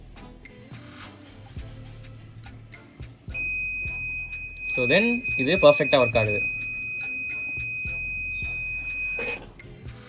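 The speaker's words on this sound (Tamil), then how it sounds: "நான் த்ரெஷோல்டை ரொம்ப குறைச்சேன் அப்படின்னா நடக்குது பாருங்கள், எனக்கு பஸ்ஸர் அடிச்சிட்ருக்கு." Buzzer of an ESP32 LPG gas leak detector with an MQ6 sensor sounds a steady, shrill continuous tone that starts abruptly and holds for about six seconds before cutting off, while someone speaks over it.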